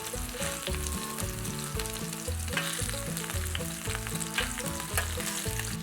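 Golf-ball-sized crab meat and corn fritters, flattened with a spatula, frying in a pan: a soft, steady sizzle running throughout, with music playing underneath and no talking.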